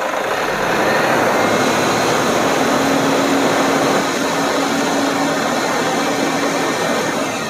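An overhauled Toyota Fortuner engine runs with the accelerator pressed, giving a loud, steady, broadband mechanical roar that holds almost unchanged throughout, close by, with no voices.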